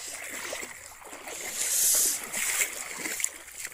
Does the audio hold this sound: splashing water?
yes